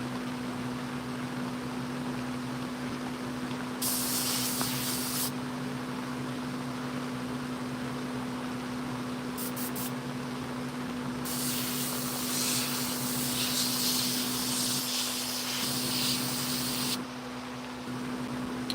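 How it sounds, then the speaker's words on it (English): A single-action Paasche airbrush spraying paint onto chainsaw carvings, fed from a large shop air compressor, gives a continuous hiss with a constant low hum underneath and several longer bursts of brighter, louder spray. "I'm running the Pache airbrush right here, single action. And I got a big air compressor in the shop"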